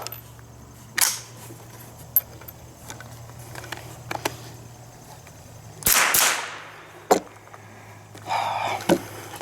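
A .22LR firearm with ejection failures fires single sharp shots, a few spaced cracks with long pauses between them and faint handling clicks, with no talk.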